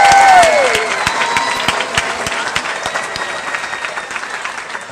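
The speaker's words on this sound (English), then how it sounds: "give me a round of applause for your graduates and their accomplishments" Applause for graduates at an InterCoast Colleges graduation ceremony: loud, sustained crowd clapping that starts strong with some cheering and gradually thins and softens over several seconds.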